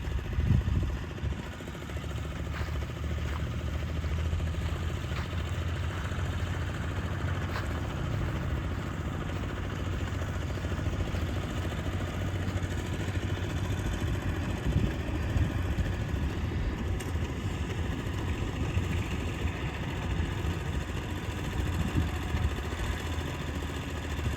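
A Kubota rice transplanter engine runs at a steady mid-pitched chug in a rice paddy, continuous and fairly close for over twenty seconds with no speech.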